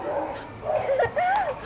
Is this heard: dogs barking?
yes